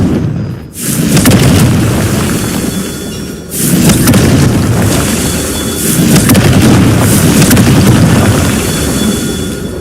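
A Confringo fire spell detonates in Hogwarts Legacy with heavy, booming blasts: two loud bursts followed by a continuous rumbling roar of fire and debris, close and dominant, with no voices.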